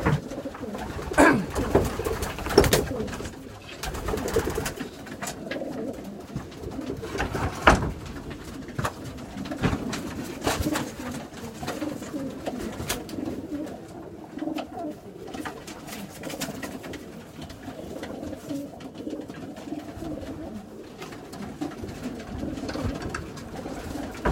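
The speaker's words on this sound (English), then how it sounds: "This is a blue cock, a 2017 pigeon." Blue 2017 cock pigeon cooing in a loft, with repeated low throaty coos over steady flock murmur and rustling, fairly close and continuous throughout.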